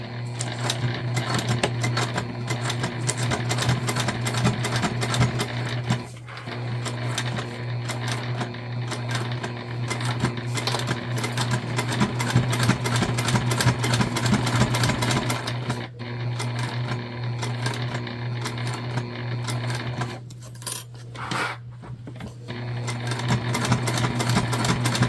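Sewing machine stitching a shoulder bag along curved seams, running in a steady continuous whir with brief pauses and speed changes.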